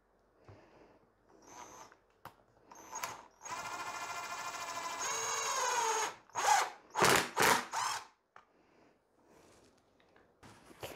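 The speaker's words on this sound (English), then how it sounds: "that might keep that in place long enough for me to get screws in it" A power drill drives screws into a fabric chair being refinished, with a long sustained whine that rises in pitch, then several short bursts of drilling, close and loud, amid light handling noises and no speech.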